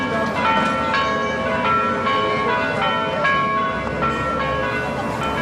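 A church bell rings among the traffic and bustle of the Santana neighbourhood in São Paulo's north zone, its steady tonal strikes carrying through dense, continuous city noise.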